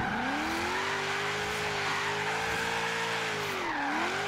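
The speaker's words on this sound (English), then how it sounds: "Coming here in fourth gear. Really early e-brake initiation." A car drifting on a street section in Forza Horizon 3 after early e-brake initiation in fourth gear, producing a steady, loud tire squeal over a droning engine that wavers slightly in pitch throughout.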